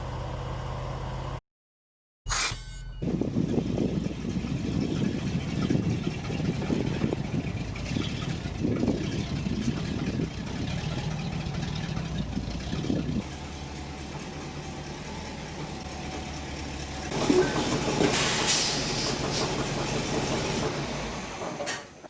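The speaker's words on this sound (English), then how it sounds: "The truck has air brakes, so we've got to let the air pressure build up" A truck with air brakes idles in place near a shop while its brake air pressure builds, a steady low engine rumble with a faint hiss and a short gap near the start, no talk.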